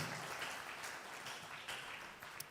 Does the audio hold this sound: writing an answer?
no